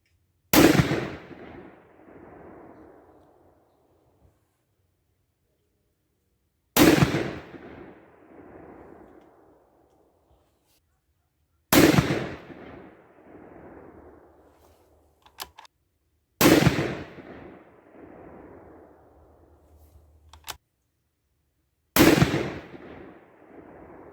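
Five loud, sharp rifle shots from a 6.5 PRC Bergara B-14 HMR firing 140gr SST loads at a range, each crack spaced several seconds apart and trailing off in a rolling echo, with small clicks and handling noises between them.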